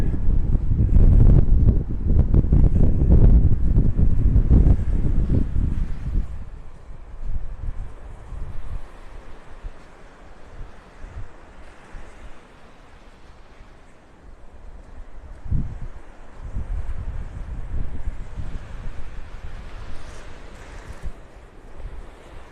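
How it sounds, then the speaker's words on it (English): Strong wind gusts across a beach in North Naples, Florida, roaring and buffeting the microphone, loudest at the start, easing in the middle, then surging again amid faint surf. "I hope that wind's just blowing it away from us."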